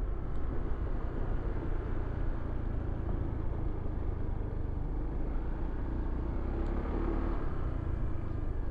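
A Euro Motor Falcon 180i ADV scooter on a test ride, giving a continuous low engine rumble mixed with road and wind noise, steady and close throughout.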